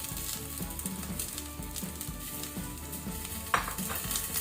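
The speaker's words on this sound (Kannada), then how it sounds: "ಇದನ್ನು ಸೇರಿಸಿ ಸ್ವಲ್ಪ ಫ್ರೈ ಮಾಡ್ಕೊಳ್ಳಿ ಲೈಟ್ ಕೆಂಪಾಗೋ ತನಕ." Chopped onions sizzle in hot coconut oil in a pan on a low flame, a close, steady frying crackle broken by stirring scrapes and one sharper clink near the end, no voices.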